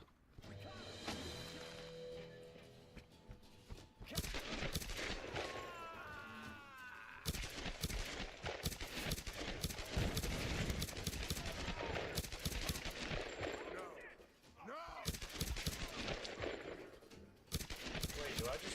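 Gunfire in the Tomb Raider Definitive Edition video game: long stretches of rapid, continuous shooting, loud and close, with brief pauses between volleys and some speech mixed in.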